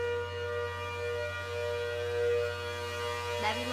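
A model 810 tornado siren, a sustained eerie tone with steady harmonic layers holding throughout, then a brief sharp shift near the end.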